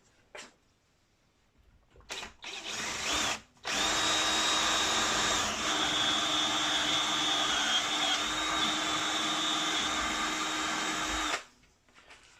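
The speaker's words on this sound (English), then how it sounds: "Right, that's the hole drilled." A power drill whines steadily for several seconds after a few short test bursts, loud and close, drilling a hole in a 2-inch scale Fowler showman's traction engine model, then stops abruptly.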